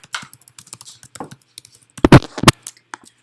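Someone types on a computer keyboard, with quick irregular clicks and taps and a louder burst of keystrokes near the end.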